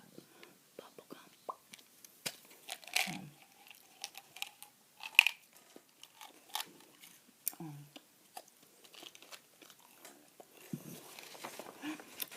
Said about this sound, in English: I'm going to be chewing this sugar-free bazooka bubblegum.